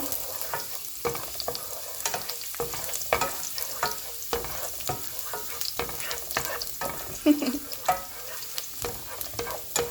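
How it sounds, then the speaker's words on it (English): Beef sizzles in a tablespoon of oil with garlic, with a steady frying hiss broken by repeated scraping strokes as the meat is stirred in the pan, close and fairly loud, with no talk. "You just saute in the beef. You just stir it in."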